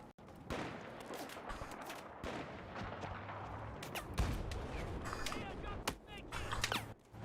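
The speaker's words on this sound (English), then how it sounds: "I'm getting shot from behind." Battlefield 4 multiplayer gunfire rains in on the player as rapid bursts of sharp shots, some near and some distant, mixed with explosive thuds and faint murmuring voices.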